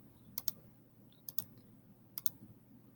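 Keys pressed on a graphing calculator, three pairs of sharp plastic clicks spaced about a second apart, close and quiet in an otherwise still room.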